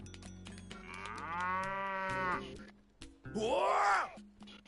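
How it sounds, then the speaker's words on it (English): Bororo cattle in the Sand Land video game let out two long, loud, groaning moos one after the other, close and deep with a rough rasp, with game sounds underneath. "Bororo cattle. Nearly scared my boots off."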